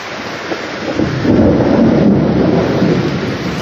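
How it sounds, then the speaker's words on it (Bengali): Heavy rain roars steadily while a deep rumble of thunder swells and rolls through, loud and close. "সকালবেলা কিরকম বৃষ্টি এসছে দেখো।"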